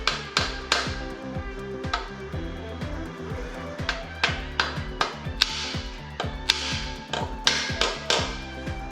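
A part is hammered into a VW AAB 2.4 diesel engine during a rebuild, with a long run of sharp, irregular metallic knocks close by, some in quick bursts, with no voices.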